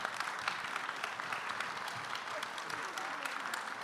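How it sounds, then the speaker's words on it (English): A Houston audience, standing, applauds a journalism panel with steady, dense clapping that holds at an even level throughout, without a break or a single voice on top. "let's give a round of applause to this panel"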